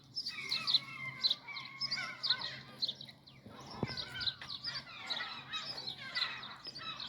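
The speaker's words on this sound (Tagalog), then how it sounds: "Ang ingay ng seagulls guys kasi" Seagulls in a garden call noisily in repeated high squawks and cries, moderately distant and layered over each other, with faint background noise.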